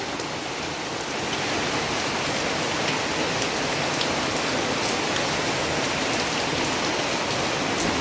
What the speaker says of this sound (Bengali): জোরে জোরে বড় বড় ফোঁটা পড়ে বৃষ্টি স্টার্ট হয়ে গেছে